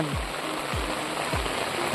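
Steady rushing rainwater stream flows continuously in the Konkan countryside, a constant broadband wash with no pauses, interrupted by a few faint low swooping sounds.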